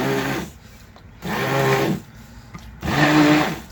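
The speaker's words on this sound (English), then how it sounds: "this is my immersion blender, hand mixer, however you want to call it. I'm going to kind of blend this up a bit" A handheld immersion blender whirs through soap-making ingredients in three short bursts, each about a second long, with quiet gaps between, close and fairly loud.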